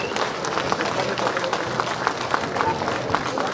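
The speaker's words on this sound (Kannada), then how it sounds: "ಚಪ್ಪಾಳೆ ಹೊಡೆದ್ರ ಮುಖಾಂತರ ಅದನ್ನ ಸ್ವಾಗತ ಮಾಡಬೇಕು ಅಂತ ಕೇಳ್ಕೊಳ್ತೀವಿ" An audience at a golden jubilee inauguration ceremony in Bengaluru claps steadily for several seconds, a dense, moderately distant patter of applause with a murmur of voices underneath.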